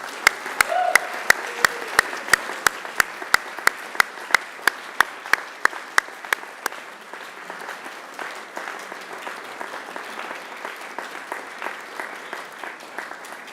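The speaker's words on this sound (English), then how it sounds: "give them a mighty round of applause" A graduation audience at a Macquarie University ceremony applauds, steady clapping from a large crowd that starts with sharp individual claps and settles into a dense, continuous wash of applause.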